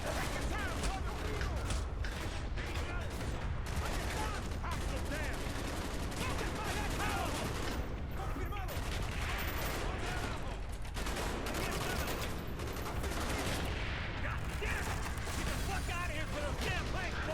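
Gunfire rattles almost nonstop in the Call of Duty Black Ops shooter game, with dense overlapping automatic bursts and sharp shots that stay loud throughout, mixed with mechanical clatter.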